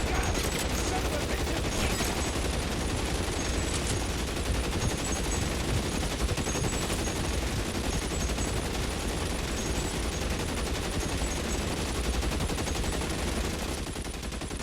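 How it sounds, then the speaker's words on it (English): Dense, continuous gunfire in a shootout from the video game L.A. Noire, rapid volleys of shots packed together for the whole stretch, loud and near. "Stop shooting!"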